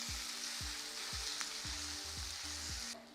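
Tofu frying in a pan for pad thai, a steady loud sizzle with a repeating stir or scrape about every half second, close up and with no talking.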